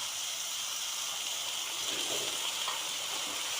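Water from chopped chilies is poured into a cooking pan with ridge gourd and onions, a steady close hiss and gush of liquid that runs evenly for the whole stretch without voices.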